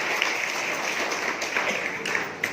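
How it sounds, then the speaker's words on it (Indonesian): A church congregation at a Christmas service applauds in a steady wash of clapping, moderately loud, with a few sharper individual claps standing out. "Berikan tepuk tangan buat Tuhan."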